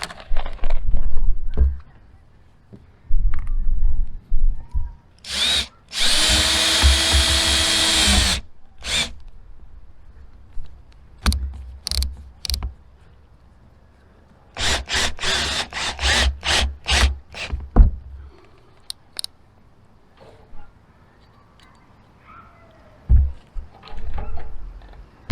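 Power drill driving self-tapping screws to fasten a roof vent onto a 6x10 cargo trailer roof, heard as several short whirring bursts and one longer run with pauses between, close and loud.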